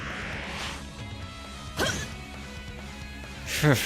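An ice attack in Trails of Cold Steel, two sharp crashing shatters, one midway and one at the end, cutting through quieter battle ambience.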